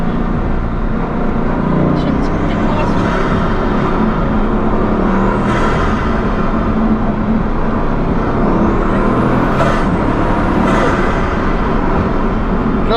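A Bugatti Chiron, the 1,500-horsepower hypercar, drives hard with a steady loud engine and road roar, tyre squeal rising and falling near the middle and end, with voices talking over it.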